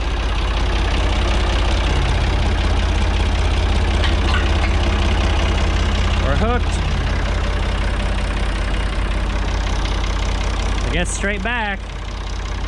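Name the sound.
tractor engine idling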